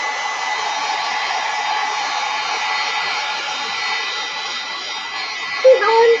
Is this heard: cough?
no